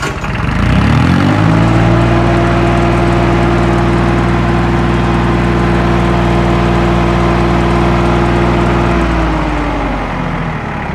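An Isuzu 10 kVA generator engine catches and settles into a loud, steady running drone for about eight seconds, then winds down toward the end, with no talking.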